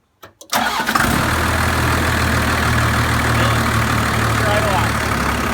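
A diesel truck engine cranks briefly and catches, then settles into a loud, steady low idle that runs for several seconds, heard up close with no talking.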